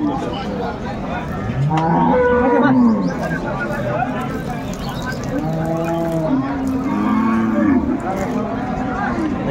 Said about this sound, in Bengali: গাভী বাচ্চা আমরা দেখছিলাম এখানে।